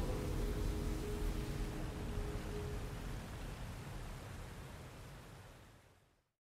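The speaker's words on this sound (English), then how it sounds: "Big, big waterfall." A big waterfall in The Legend of Zelda: Tears of the Kingdom roars as a dense, steady rush of falling water that fades out at the end, with no voices over it.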